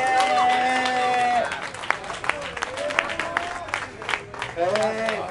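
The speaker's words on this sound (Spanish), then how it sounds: "¡Dónde está el aplauso para este desmadre!" A crowd at a Mexican freestyle rap battle final claps and cheers, a sustained wash of applause under shouting voices and a held musical tone, with sharper individual claps and hubbub as it continues.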